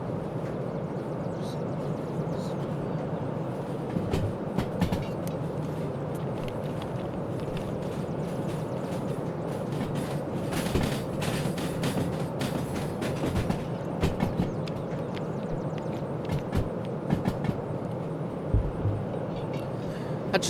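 Locomotive rumbling and straining along rails in the Derail Valley train simulator, a steady low mechanical drone with faint clanks and ticks running throughout, no talk.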